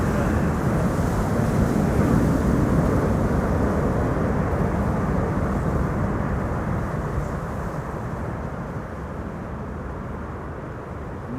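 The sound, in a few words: airplane landing on runway 06 at Amsterdam Schiphol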